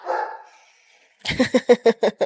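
A dog barks in a home: a brief whimpery sound, a pause, then a quick run of five or six sharp, close barks in steady rhythm.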